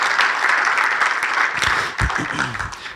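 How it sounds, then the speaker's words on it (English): Applause from the audience at a pickleball Hall of Fame induction ceremony, loud and continuous, with a brief voice or low murmur breaking in toward the end as the clapping thins. "You can applaud for that"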